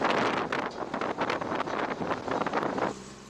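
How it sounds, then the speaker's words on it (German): Strong wind roars across a snowy mountain slope in winter, gusting near 100 km/h with loud, continuous buffeting and rushing noise that drops away abruptly near the end. "Trotz Windgeschwindigkeiten von bis zu 100 km pro Stunde."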